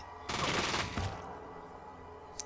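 A short burst of gunfire from the Fallout video game in Junktown, a loud rapid volley of several shots lasting under a second, then a fading tail, with no talk.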